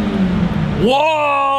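A Honda Integra Type R engine revs up sharply and then holds a high, steady wail close by, with a man's excited exclamation at the start.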